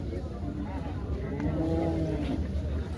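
A cow at the Mansa cattle market lets out a long, loud moo over a busy, murmuring crowd background.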